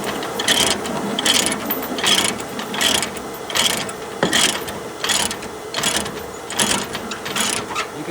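A ratchet chain binder cranked tight to secure a skid steer for hauling, making a steady rhythmic series of metallic clicking ratchet strokes about twice a second, close and loud with no talking.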